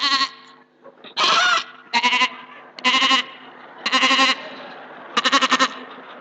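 A goat bleats five or six times in loud, wavering calls spaced about a second apart, each with a harsh nasal tremble, close to the listener with a faint background hum between calls.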